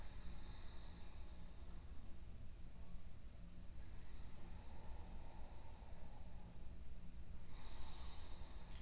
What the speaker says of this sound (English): Just find a nice soft ujjayi.